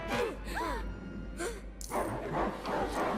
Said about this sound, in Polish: O kurde, pieseły.